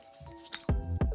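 A toy sack from a 1996 Goosebumps monster bag figure drops into a big bowl of water, giving two close wet plops with soft sloshing.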